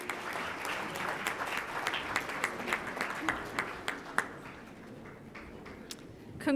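A crowd at a teachers' awards ceremony applauds the winners. The clapping is fairly faint and distant, a patter with scattered louder individual claps that thins out toward the end.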